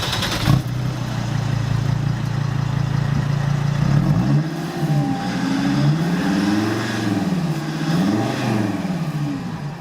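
A Mercedes CLK 270 five-cylinder diesel runs loud and close, first at a steady idle with a deep drone, then with its pitch rising and falling as the engine is revved in repeated swells.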